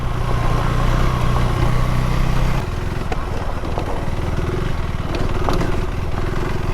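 A KTM 390 Adventure S motorcycle engine drones steadily under throttle, loud and close, its tone shifting partway through as the revs change.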